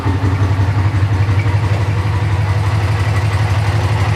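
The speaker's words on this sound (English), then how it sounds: "the bike just sounds really nice. That's a good sounding engine" A Honda Ascot motorcycle engine idles close by in cold weather, a loud, steady low throb with a fast, even pulse and no voices.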